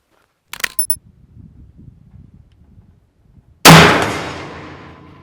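A 5.56 round strikes a Hexmag magazine taped to steel plates outdoors. A brief metallic clatter comes first, then after a quiet stretch a sudden loud bang with a long ringing metallic decay.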